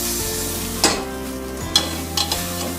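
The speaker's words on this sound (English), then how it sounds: "After searing for about 5 minutes, flip over and sear the other side." A 3 lb beef roast searing in a pan, with a steady loud sizzle throughout and a few sharp clanks and scrapes of the meat or utensil against the pan.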